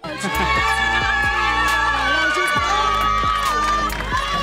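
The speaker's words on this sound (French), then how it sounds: "Allez, on peut l'applaudir, Sania." A crowd at an evening talent show cheering and applauding the winner, a loud continuous roar of voices with music running underneath.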